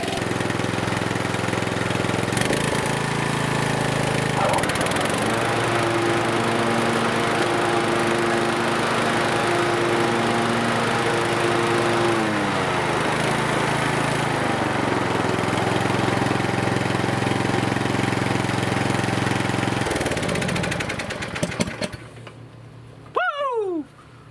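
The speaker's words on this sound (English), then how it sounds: "Them blades are spinning a lot faster than they've ever spun before, I bet." A Swisher mower running with a newly fitted engine and spinning blades, a loud steady drone that shifts pitch a few times before cutting off and winding down near the end.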